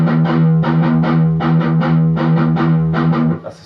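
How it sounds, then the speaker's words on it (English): A distorted electric guitar plays a reverse gallop heavy metal rhythm, repeated palm-muted chugs grouped in tight short-short-long bursts at a steady tempo, loud and close, ending with a brief fade. "It's a gallop but reversed. That's also used in a lot of heavy metal stuff."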